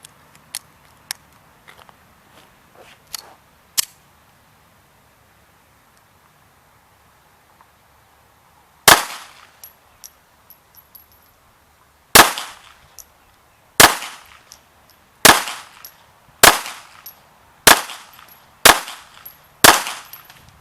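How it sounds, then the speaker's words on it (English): Walther PP pistol firing .32 ACP, with a few soft handling clicks and then eight sharp shots spaced unevenly, close, loud and clear, each with a short ringing tail. "let's run one last mag of 32 ACP ammunition"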